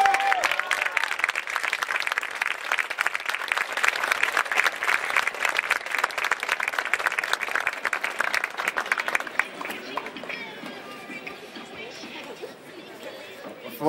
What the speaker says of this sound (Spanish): Otro fuerte aplauso a nuestro director